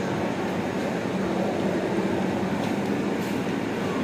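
A Dhaka metro rail train runs with a steady, loud rumble and hiss heard from inside, constant and unbroken throughout, with no talking.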